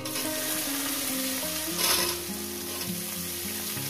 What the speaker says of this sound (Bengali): পেঁয়াজটাকে দিয়ে আমি 3 মিনিট ভেজে নেব লাল লাল করে।